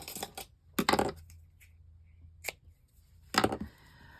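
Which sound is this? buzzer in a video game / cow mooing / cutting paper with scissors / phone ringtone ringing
cutting paper with scissors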